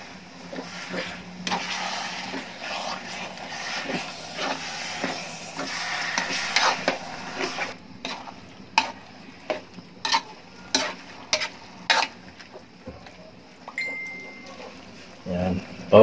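Cassava leaves being stirred into pure coconut milk in a cooking pot, with a run of sharp spoon clinks and scrapes against the pot over a soft low simmering hiss, near and fairly loud, the taps growing more spaced toward the end.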